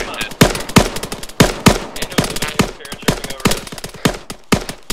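Rapid gunfire in the military shooter Arma III, a steady string of loud, sharp shots in quick succession with some irregular bursts, close and dominant throughout.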